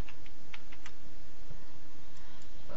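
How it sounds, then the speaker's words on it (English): A computer keyboard is typed on in quick, uneven bursts of crisp close clicks, pausing briefly between runs of keystrokes, with no talking. "So I'm going to type in some basic information."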